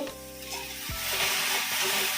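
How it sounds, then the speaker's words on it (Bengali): Okra (bhindi) frying in a pan, with a loud, continuous sizzle and the scrape of stirring, close up and brief. "আর এইদিকে হচ্ছে ভেন্ডি ভাজা"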